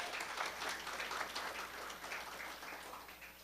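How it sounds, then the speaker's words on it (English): An audience at a mentorship program launch event applauds an employee, a continuous, even patter of many hands clapping heard at a distance, fairly faint and steady across the whole stretch. "really want to congratulate Kavita Kishoon, if you all can just applaud her on that."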